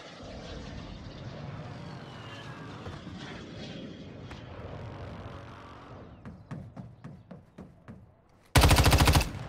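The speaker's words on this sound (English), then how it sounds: "Oh, airspace is crowded. Another airstrike." An airstrike in the Warzone Mobile video game: a dense rumble of jet and gunfire gives way to a rapid series of sharp blasts, then a sudden loud burst of noise at the very end.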